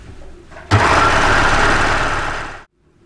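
A sewing machine stitches the outer side seam of stretch skinny flare leggings, starting abruptly and running as one loud, steady, continuous whir for about two seconds before stopping cleanly, with no talking over it.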